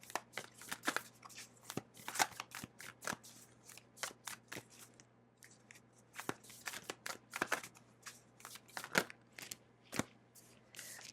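Tarot cards are shuffled close up in a quiet room, with quick papery riffles and slaps arriving in irregular bursts and short pauses between them.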